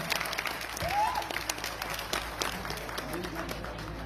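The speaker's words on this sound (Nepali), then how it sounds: "एकपटक बेजोड ताली बजाउँछौँ" An audience applauds at a film premiere, a dense wash of clapping with crowd murmur and a voice or two mixed in, fairly distant and steady for a few seconds.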